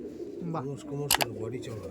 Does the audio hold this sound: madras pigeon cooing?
yes